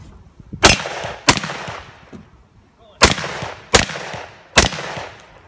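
Five loud, sharp gunshots ring out close by at a summer outdoor gathering, with uneven gaps between shots and brief echoing tails, over faint background murmur.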